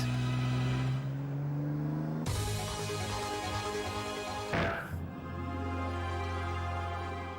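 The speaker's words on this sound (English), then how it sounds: "The DB5, Aston Martin's greatest icon." Aston Martin DB5, the classic Bond car, with its engine droning and revving steadily up close, a sharp burst around midway as the revs climb, then settling back to a loud, continuous engine note.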